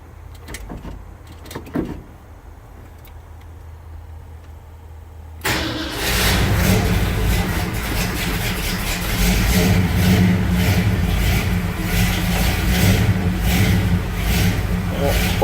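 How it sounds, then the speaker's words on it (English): A 1970 Ford F-250 truck with Pertronix ignition cold-starts after several days of sitting, a quiet lead-in giving way at once to a loud, steady engine run that carries on strongly to the end. "completely cold start of this truck."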